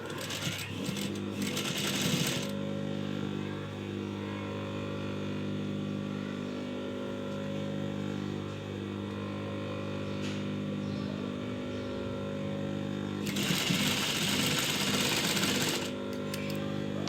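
A sewing machine stitches the shoulder seam of an A-line shirt. It runs in a loud whirring burst at the start and another near the end, with a steady lower mechanical hum in between.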